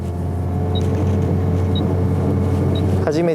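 Engine of a Cusco FK8 Honda Civic Type R with a mechanical LSD, driven on a wet Tsukuba circuit course, holds a steady low drone with a few brief chirps near the end, and a voice briefly joins.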